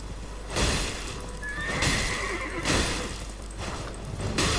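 A horse neighs in Elden Ring during a horseback boss encounter, several loud whinnies in bursts with hoof clatter and game noise between them, no talking.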